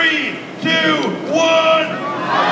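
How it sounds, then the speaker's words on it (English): A large crowd at the Chicago Auto Show yells in unison for a Ford Mustang display, loud and close, with a sustained mass shout of voices filling the space. "I want this whole crowd to yell Mustang as loud as you guys can."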